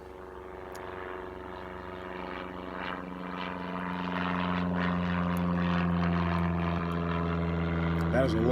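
A low-wing fixed-gear propeller airplane flying overhead, its steady droning engine hum growing gradually louder and nearer across the whole stretch, with a person talking.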